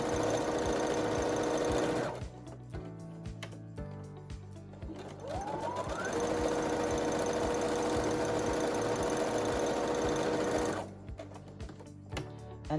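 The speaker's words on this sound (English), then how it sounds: "Go back and forth in the corner. And I try to sew pretty close to the edge." A sewing machine stitches a T-shirt fabric face mask in close, loud bursts of fast rhythmic mechanical chatter with a steady hum, broken by short pauses and a brief high whir between runs.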